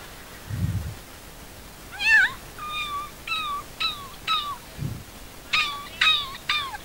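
A voice imitates a kitten's meows during a religious lecture, a short series of high, wavering mews, several in quick succession, with a couple of low thumps or audience murmurs between them.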